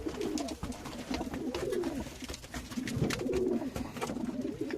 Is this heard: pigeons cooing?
yes